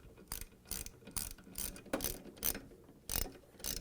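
Ratchet wrench tightening 2 1/2-inch bolts on a Whirlpool washer transmission gives bursts of close, crisp clicking in a quick repeated rhythm, with short pauses between strokes and no voices.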